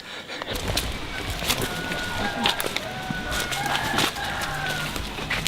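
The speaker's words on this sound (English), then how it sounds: "always follow the chicken noises" Chickens cluck and a rooster calls faintly at a distance near Zongolica, Mexico, over a steady outdoor background of insects and rustling.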